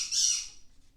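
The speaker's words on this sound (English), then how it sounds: "The bird's squawking." A bird gives one harsh, loud squawk that starts at once and trails off into quiet over about a second, alone with no voices.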